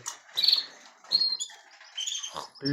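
Several caged canaries chirp and tweet in short bright bursts with quiet gaps between, close by and with no talking.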